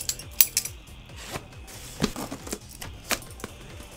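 Blade cutting open the packaging of a PlayStation 4 Slim, a run of quiet clicks, scrapes and small taps close by, uneven in rhythm, with no talk over it.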